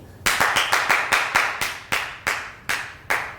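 A single person claps ten times at a theatre performance, sharp hand claps evenly spaced about a third of a second apart, close and clear with nothing else around them.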